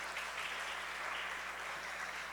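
Applause from a church congregation in Brazil honoring a woman by name, a soft, distant, steady rattle of many hands clapping at an even level with no speech.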